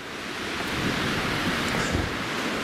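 Steady, broadband wind roar blowing across the microphone, constant and fairly loud with slight gusting swells and no voices.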